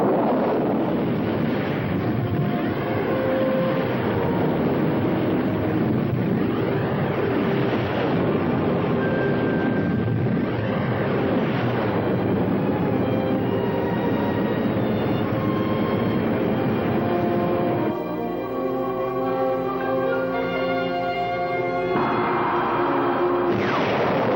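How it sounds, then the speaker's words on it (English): Spaceship engines run at maximum speed in a 1960 science-fiction film, making a loud, sustained roaring rumble with swirling, shifting tones. A pulsing, stuttering passage comes near the end, and no voices are heard. "Engines at maximum speed."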